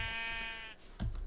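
Goats bleat in the Minecraft video game, a harmonic, wavering bleat holding for most of the moment before a short thump, with no talk over it.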